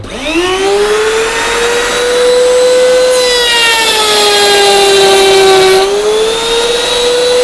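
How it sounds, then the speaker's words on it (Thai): A 30-litre dust extractor hose hooked to a Stanley table saw on a small multipurpose woodworking table, a loud steady whining drone with a rising pitch at start, running continuously up close. "เราใส่หัวดูดฝุ่นของเจมาสามสิบลิตร ได้เลยได้ได้เลย ครับทีนี้เราก็เริ่มต้นใช้งานเผาเพื่อดูดฝุ่นได้เลย"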